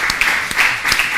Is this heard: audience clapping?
yes